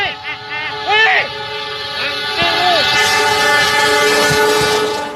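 A train nears a railway level crossing in Bandung, West Java, its loud horn blasting in sweeping, bending tones over a steady rumble that builds toward the end, with voices mixed in.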